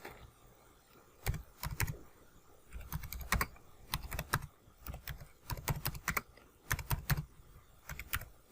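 Clicking keystrokes on a computer keyboard come in quick bursts of several taps with short pauses between, close and fairly crisp against a quiet room.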